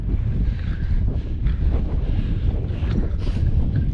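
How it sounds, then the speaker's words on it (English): Strong wind gusts roar steadily across a mountain slope at about 550 metres on a Scottish peak, a constant loud buffeting with no other sounds. "So it's quite breezy, as you can probably hear."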